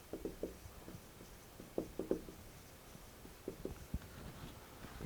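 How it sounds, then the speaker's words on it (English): Board eraser wiping across a lecture board, heard as quiet, scattered scuffing strokes in short clusters against a faint room background. "Just erase this part here for now."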